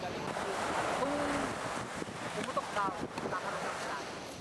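Rough ocean waves and wind rush steadily in the Babuyan Channel, with buffeting wind on the microphone and the churn of water around a moving boat.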